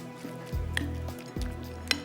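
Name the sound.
tikka boti frying in a pan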